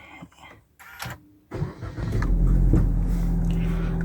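A 2021 Suzuki Ertiga Sport engine cranks after a few quiet clicks and fabric rustles, catches with a swelling rev, then settles into a steady, close idle.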